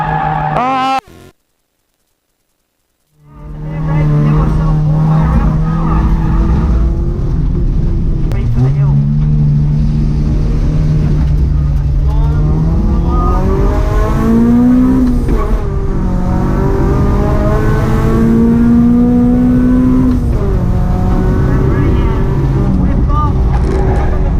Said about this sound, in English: then braking drift, and then I'm on the brakes and the handbrake